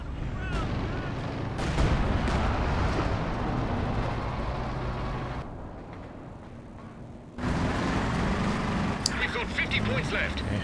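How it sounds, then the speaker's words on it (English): Mortar and artillery fire in Company of Heroes 2 during a 2v2 match, with booming impacts and rumbling explosions over battlefield noise, a brief quieter stretch midway, then renewed blasts, while a commentator talks throughout. "Those Axis mortars still kicking."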